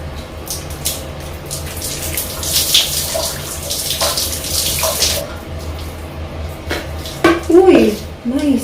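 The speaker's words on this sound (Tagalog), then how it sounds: "banlawan natin" Running water rinses a hair mask out of hair, a loud, close rush of tap water with splashing and shifting flow. A voice is heard briefly near the end.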